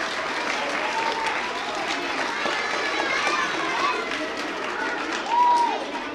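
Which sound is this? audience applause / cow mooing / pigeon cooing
audience applause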